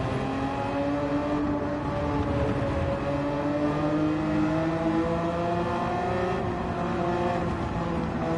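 A Porsche race car's engine, heard from the onboard view in a racing video game, drones loudly and steadily, its pitch climbing and shifting through gears with no talk.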